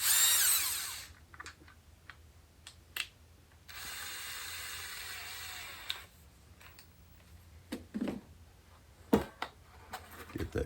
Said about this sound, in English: Put the old step bit back in there, metal drilling bit, whatever you want to call it.